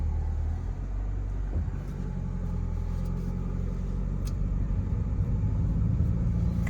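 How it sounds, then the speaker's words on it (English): A 2024 Toyota RAV4 Prime XSE plug-in hybrid SUV driving in sport mode, a steady low cabin rumble of engine and road noise, even and moderately loud with no talk. "let's take the RAV4 Prime for a quick spin. I'm going to go ahead and pop this into sport mode"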